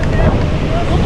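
Strong wind buffets the microphone during a long-distance bike ride in a steady, loud rumbling roar, with no voices heard.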